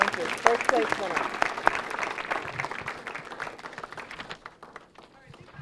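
Audience applause for high school science fair winners, a burst of clapping in a hall that tapers off, with people talking over and after it.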